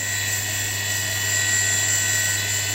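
A 500W brushless motor spindle spins at maximum RPM on 24 volts, giving a steady, high-pitched whine with a constant low hum underneath. The tone holds even and loud throughout, with no talking.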